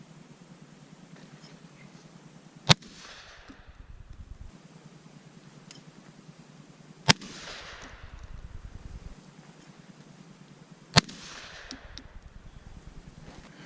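A Beretta A300 Outlander shotgun fires at hand-thrown clay targets outdoors: three sharp distant-sounding blasts spaced several seconds apart over steady low background noise.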